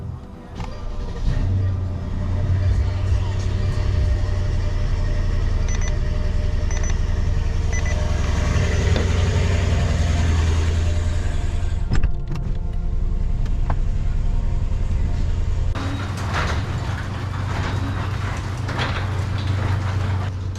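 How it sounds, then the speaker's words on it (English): A Mercedes-Benz S-Class driving off, with a steady low engine and road rumble throughout, a few sharp clicks and knocks, and a brighter rush of noise toward the end. "And now I'm excited to finally drive the car on the highway again."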